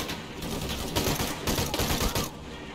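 A grenade blast and sustained gunfire in Shadow of the Tomb Raider on Xbox One X, loud, dense rattling bursts that keep coming in waves for nearly three seconds before easing off.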